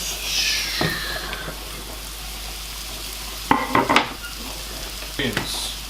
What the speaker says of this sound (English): I'm going to add the mushrooms in.